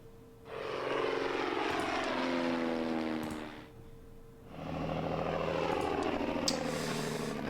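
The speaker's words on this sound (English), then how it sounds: "And that is a dive bomber as well." Dive bomber aircraft in the World War 2 strategy game Order of Battle, a loud droning propeller engine that swells, dips briefly, then returns at full strength, with no talk over it.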